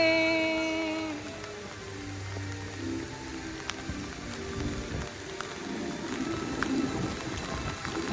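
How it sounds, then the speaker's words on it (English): Steady rain at Disneyland patters on a surface, a soft continuous hiss with scattered drops and faint background activity. "It's raining."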